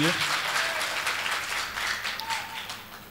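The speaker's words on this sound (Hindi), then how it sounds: "तालियां बजाइए" Audience clapping at an All India Mushaira poetry gathering and book launch, a short dense round of applause that tapers slightly, with a voice faintly over it.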